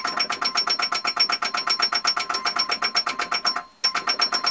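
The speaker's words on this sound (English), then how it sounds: "We also rebuilt the chimes, of course, so a nice little after ring to them." The rebuilt chimes of a Bally Power Play pinball machine ring in a rapid, loud, repeated series of bright bell tones, each with a short after-ring, then break briefly before starting again.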